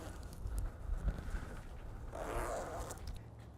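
A zipper is drawn along a Bestop Trektop soft top on a four-door Jeep JK Unlimited, making a close, rasping pull with some fabric rustle and handling noise.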